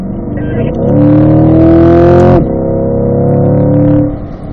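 A 2020 Chevrolet Corvette C8 with paddle shifters accelerating at full power on a track, a loud, close engine note climbing through the revs, dropping sharply at a shift, then pulling up again before easing off.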